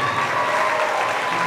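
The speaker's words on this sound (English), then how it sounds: "Give a round of applause, Leslie." An audience at a hypnosis stage show applauds steadily, a dense, even wash of clapping that holds at full strength throughout with no talk over it.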